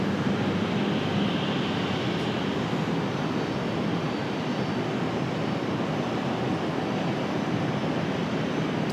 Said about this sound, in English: We've got a CRJ on final.